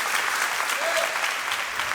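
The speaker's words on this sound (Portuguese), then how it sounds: "Pode dar uma salva de palmas ao Senhor." Steady, dense applause from a church congregation during a sermon, many hands clapping together at a constant loud level throughout with no gaps.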